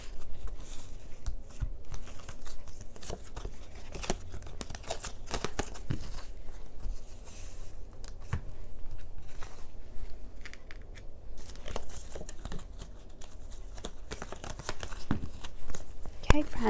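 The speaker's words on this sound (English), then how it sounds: "let's gather the cards." Tarot cards being gathered and handled on a table, giving a run of soft shuffling, sliding and crinkling paper sounds, steady and close throughout.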